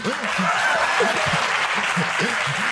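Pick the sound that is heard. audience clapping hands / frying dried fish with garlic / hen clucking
audience clapping hands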